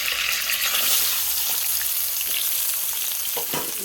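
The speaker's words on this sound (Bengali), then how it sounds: "তেলের সঙ্গে গরম মশলা আর পেঁয়াজ ভালো করে নাড়াচাড়া করে নেবো" Chopped onion and whole garam masala fry in hot oil in a pan, giving a loud, continuous crackling sizzle with a few stirring scrapes toward the end.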